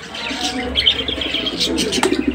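A pair of racing pigeons, a hen sitting on eggs and a cock, coo softly in a close, quiet pen, with short throaty coos and faint chirps repeating in uneven bursts.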